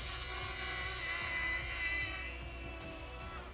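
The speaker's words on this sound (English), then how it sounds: "And if I want to stop, I can just press stop and the drone will be ready" Small DJI Flip drone hovering just before being caught, a steady high-pitched propeller whine with a rumbling hum underneath, close and continuous, easing slightly toward the end.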